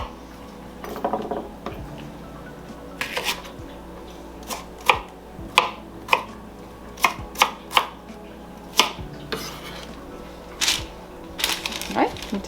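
Jalapenos chopped with a knife on a cutting board, a run of sharp, evenly spaced chops close by, with quieter handling clatter before and after.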